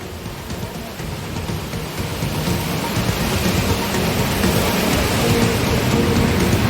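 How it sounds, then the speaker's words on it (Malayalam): Heavy rain pours down in Kozhikode, Kerala, a dense continuous roar of downpour that grows slightly louder over a few seconds, with no voices. "കോഴിക്കോട്ട് കനത്ത മഴയാണ്."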